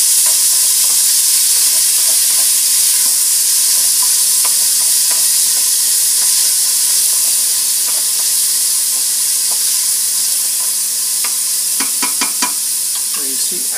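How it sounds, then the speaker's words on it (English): Tomato with garlic sizzles steadily in a pot of fat while a wooden spoon scrapes and stirs, with a run of sharper clacks near the end; no voices. "With a wooden spoon, brown it lightly."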